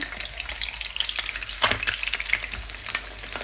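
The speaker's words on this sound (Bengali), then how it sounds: "তিনটা ডিম একসাথে সুন্দরভাবে ভাজিবি" Three eggs fry together in plenty of hot oil, giving a continuous crackling sizzle with scattered sharper pops and a brief louder burst midway, close and moderately quiet, with no voices.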